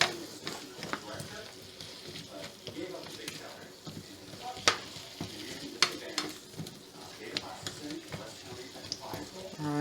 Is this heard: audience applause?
no